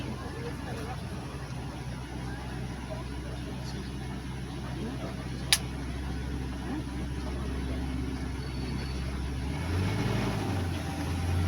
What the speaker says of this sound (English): I'll let this truck get a little bit farther in front of us, and then we'll pull forward in just a second.